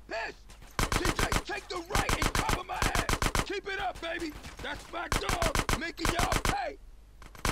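Submachine gun fire in GTA San Andreas: several loud, rapid bursts of automatic shots, each a tight rattling string, separated by short pauses and continuing steadily throughout.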